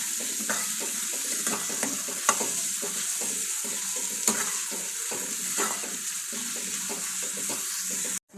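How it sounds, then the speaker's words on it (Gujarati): Onions frying gently in a pan on low heat are stirred steadily, a constant close sizzle under regular soft scrapes of the spoon, with no talking. "ધીમા તાપે એને સરસ રીતે હલાવતું રહેવાનું"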